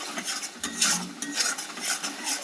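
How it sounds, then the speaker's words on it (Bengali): A spoon scrapes and stirs spice masala with salt and turmeric in a cooking pan, giving a steady run of soft, repeated scraping strokes close by, with no voices. "ভালো করে নাড়িয়ে নিলাম"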